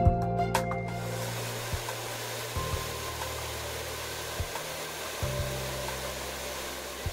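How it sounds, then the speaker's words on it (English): A hair dryer on a medium setting runs with a steady, even whir after a few handling clicks at the start, close and moderately loud, with faint bumps as it moves during a quick post-swim blow dry. "I'm then going to use my hairdryer, and it's quite important to use it on a medium setting"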